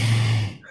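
A voice imitates heavy breathing into a microphone, one close, loud, rushing exhale that tails off into quiet.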